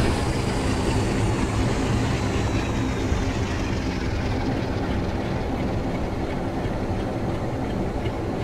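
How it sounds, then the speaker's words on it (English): Class 47 diesel locomotive in Train Sim World 2, a dense, continuous engine rumble with rail clatter, steady and fairly loud with no voices. "Certainly a lot more realistic sound set for a 47 in the game."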